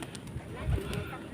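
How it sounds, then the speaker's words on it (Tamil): Pigeons at a hill Shiva temple in Bukit Gasing, Petaling Jaya, give soft, low cooing with light outdoor background noise in a brief, faint moment. "புறாக்களும் நிறையா இருக்கும்."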